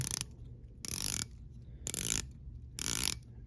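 A titanium watch bezel being turned by hand gives four short, crisp ratcheting bursts, evenly spaced with quiet gaps between them, close up and clear with no talking.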